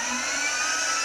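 Steady, even whirring hum of HPE Moonshot server fans with a high airy hiss, constant and fairly loud, no voices.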